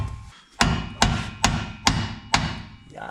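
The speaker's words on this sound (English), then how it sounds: "Oh, I need a hammer" Hammer strikes ring out during a vintage Chevy car build: five sharp, loud metallic blows at a steady, unhurried pace, each with a short ringing decay, close by and with no talk.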